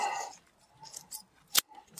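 Scissors trim the roots of an iris rhizome in a garden bed, with a few soft, close snips and one sharp, louder cut near the end.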